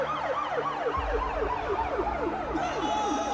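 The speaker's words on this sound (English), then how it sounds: "More police cars sped past" Wailing police sirens sweep up and down repeatedly as vehicles pass close by, loud and continuous, with a rumbling engine joining partway through.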